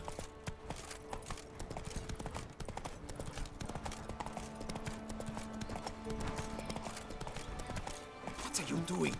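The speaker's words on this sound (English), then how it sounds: "Whoa there, Roach" Roach, a horse in The Witcher 3, trots with a steady rhythmic clip-clop of hooves over game ambience, alongside a brief whinny and someone talking.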